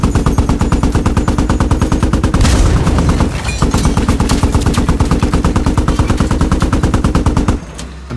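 Sustained automatic gunfire in the Squad military shooter, loud and rapid with dense, evenly spaced bursts running almost without pause, one brief heavier blast near the middle and a sudden stop near the end.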